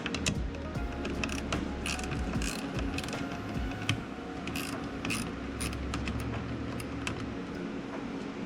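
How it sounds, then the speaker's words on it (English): Ratchet wrench backing out 8mm nuts on a Corvette C8 during a fender vent trim install, a steady run of rapid clicking pawl strokes close up, with brief pauses, and no talking. "There are 4 8mm nuts that need to be removed and are pretty easily accessible."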